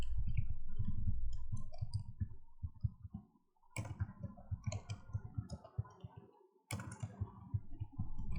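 Typing a school name on a computer keyboard, with rapid close key clicks in quick bursts separated by brief pauses and a few sharper taps, quiet and without speech.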